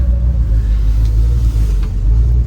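A 1965 Ford Mustang GT convertible with the A-code 289 V8 drives on a cold, snowy, icy road, its deep engine rumble loud and steady throughout, no voices.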